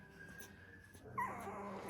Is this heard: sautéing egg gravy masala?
no